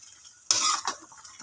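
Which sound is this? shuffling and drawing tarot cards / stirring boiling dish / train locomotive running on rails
stirring boiling dish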